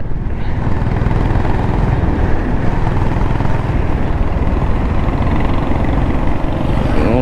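A motorcycle engine runs at a steady, throbbing idle with a rumbling exhaust note, loud and close, continuing without a break.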